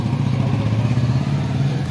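A motorcycle rides off, its mid-pitched engine running loud and close in a continuous steady drone with a faint rattling texture and no talk.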